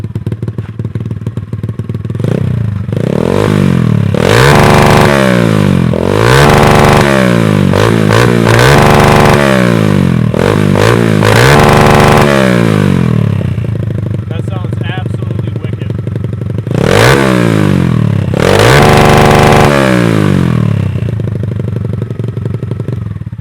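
A Chinese pit bike engine, fitted with a cheap rev limiter, is blipped again and again into the limiter: close, loud rising-and-falling rev bursts, roughly eight in a row, over a rough idle.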